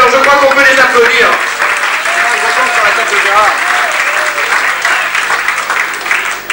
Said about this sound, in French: alors je crois qu'on peut les applaudir